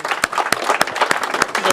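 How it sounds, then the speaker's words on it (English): Audience applause after a business leadership talk, a short burst of clapping with several sharp, distinct claps standing out over a steady patter, fairly close and moderately loud, with no talk over it. "join me in giving them a round of applause and thanking them for everything"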